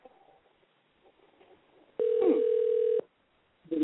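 A steady telephone line tone holds for about a second, loud and clean, as a call is transferred to voicemail on a radio show, with quiet line hiss before it.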